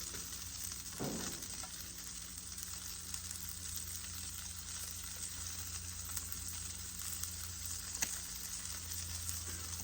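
Salmon cooking on a grill gives a steady, faint, continuous sizzle and hiss with a few small clicks, and no one speaks.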